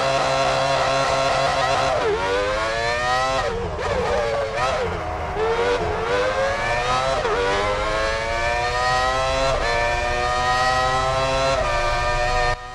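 A 1996 championship-winning Formula 1 car in the F1 Championship Edition video game, its engine screaming loud and continuous with rising revs that repeatedly drop at gear changes before climbing again, no talk over it.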